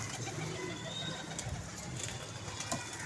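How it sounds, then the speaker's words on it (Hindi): A pigeon coos softly amid a busy, noisy background, faint and brief, with human voices nearby. "ये है कबूतर"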